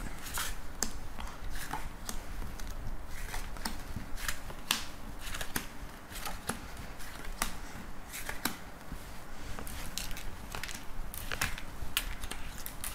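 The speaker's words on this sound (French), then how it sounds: "Alors, je vais positionner les cartes." Tarot cards being shuffled and laid out, continuous close riffling and repeated sharp card snaps and slaps with no talking.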